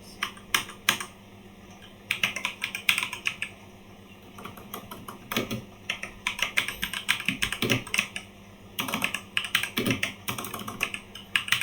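Someone types code on a computer keyboard in quick clustered bursts of crisp key clicks with short pauses between, close and fairly loud.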